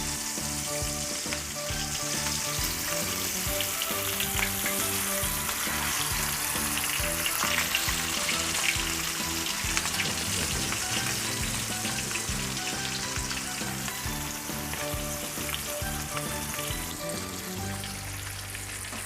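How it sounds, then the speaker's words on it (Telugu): Fish pieces fry in a pan for a village-style fish curry with raw mango, giving a loud, continuous close sizzle and crackle with occasional stirring noises over a long stretch. "ఇప్పుడు చేప ముక్కల్ని హాఫ్ బాయిల్ కింద ఫ్రై చేసుకోవాలి."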